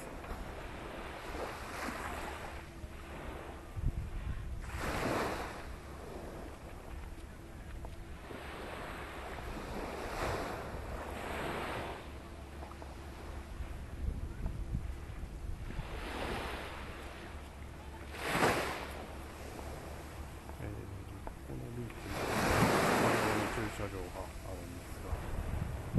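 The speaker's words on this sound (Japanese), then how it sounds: "波の音がこっちです" Ocean surf at Okinawa's Sunset Beach, with repeated swells of breaking waves rising and fading every few seconds over wind noise on the microphone.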